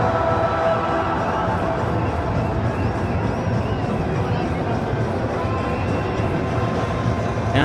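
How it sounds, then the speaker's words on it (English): A large, devoted crowd of football supporters singing together in a stadium, a dense continuous roar of massed voices with someone talking over it in the foreground. "you may well be able to hear the singing of this very, very faithful crowd"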